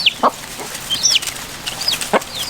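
Young farm chicks clucking and peeping up close, a handful of short, high chirps and soft clucks scattered across a couple of seconds with quiet gaps between them.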